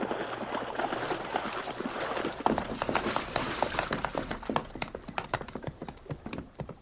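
Horse hooves clip-clop through shallow creek water as a radio drama effect, sloshing splashes first, then a steady run of sharp hoof strikes that grows clearer and more rhythmic.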